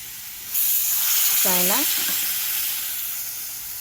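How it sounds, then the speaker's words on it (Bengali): Chana masala hits a hot pan with an abrupt loud sizzle that settles into a sustained steamy hiss, with a short vocal sound partway through. "সব ঢেলে দেওয়া হলো চানা মশলাগুলো"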